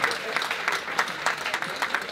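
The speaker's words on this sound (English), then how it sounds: "Give her a round of applause, please." Round of applause from a seated crowd at a charity auction dinner, a couple of seconds of dense, close clapping with a few voices in the mix.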